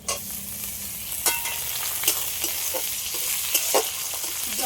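Chopped tomatoes go into a frying pan for a fish-head mung dal, bringing a loud continuous sizzle with a few sharp spatula scrapes and taps scattered through it, close by.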